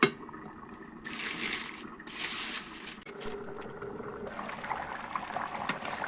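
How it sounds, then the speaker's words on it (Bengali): Fish curry with rohu, cauliflower, peas and potato bubbles in a pot, a soft uneven gurgle and patter with brief louder hissing bursts, close and moderately quiet, with no voices. "ঝোল ফুটে গেছে"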